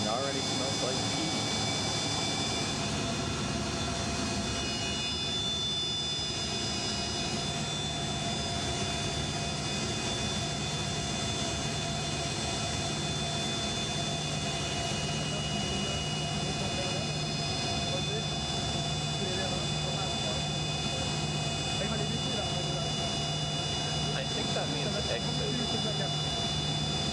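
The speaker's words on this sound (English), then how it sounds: "There's all three engines." Steady roar of the three engines of a Centre-Avia Yak-42 jet airliner fills the whole stretch, a constant loud drone with high whines layered on top and no let-up.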